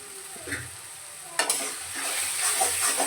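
Cumin and fenugreek powder stirred into tomato gravy frying in a pan, a soft sizzle that swells after a sharp clink of the spoon partway through.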